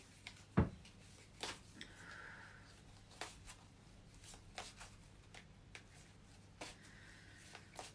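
A deck of cards is shuffled for a card reading in a quiet room, giving a few soft riffles and scattered light taps at close range, with no talk over them.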